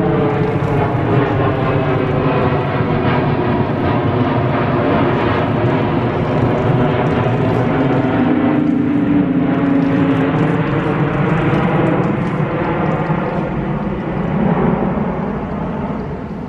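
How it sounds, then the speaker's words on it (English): A loud, steady engine drone with a whirring rotor edge from a military helicopter passing overhead, continuous throughout and rising slightly midway before easing off. "it's a military copter."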